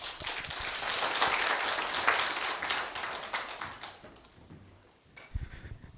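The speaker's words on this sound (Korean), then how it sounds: "큰 환영의 박수 부탁드립니다." An audience at a lecture forum claps in welcome for the incoming professor, a dense wash of applause that builds, holds for about four seconds, then fades. A few scattered sounds follow in the quiet hall.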